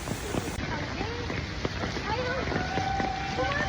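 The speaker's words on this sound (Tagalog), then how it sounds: "grabe ang lakas ng ulan dito ngayon sa Taoyuan, Liaofu" Heavy rain pours down at an outdoor theme park in Taoyuan, a dense steady roar of drops close around, with people talking and calling out over it.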